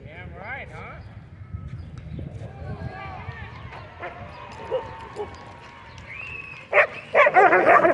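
Dogs at a dog park, including a pitbull mix and a German Shorthaired Pointer, play and scuffle. Paws patter and there are scattered yips before a burst of loud, close barking near the end, with people talking.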